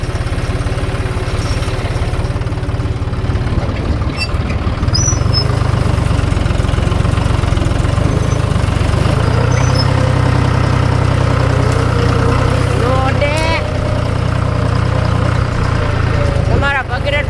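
A tractor engine runs steadily and loud throughout, a low continuous rumble with a close, idling character, while someone talks over it near a mango orchard.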